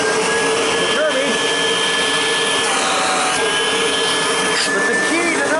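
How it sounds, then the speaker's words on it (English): Kirby vacuum cleaner running during a vacuum gauge test makes a loud, continuous motor roar with a high whine, steady throughout and close to the listener, while someone speaks over it. "So first off, we're going to test the Kirby. Switch her on."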